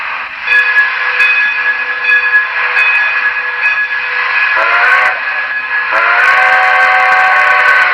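An N scale Broadway Limited model steam locomotive sounds a sustained steam whistle with steady hiss, the tone shifting and rising near the end as the train runs, loud and close with no talk.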